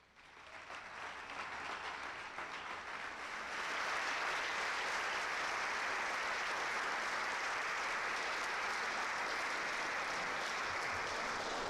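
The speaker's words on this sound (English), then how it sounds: "please give them a round of applause." A large audience at a Windsor High School awards program claps for faculty and staff, a steady wash of applause that swells after a few seconds and holds loud and even to the end.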